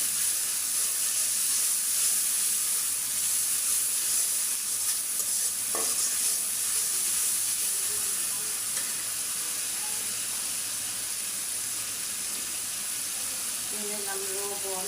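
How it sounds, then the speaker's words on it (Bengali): Onion with ginger-garlic paste frying in hot oil for a bottle gourd and fish-head curry, a steady loud sizzle and hiss throughout with occasional stirring scrapes. "লাউর জন্য আমি তেল আর পেঁয়াজ একটু বাজিয়ে নিলাম।"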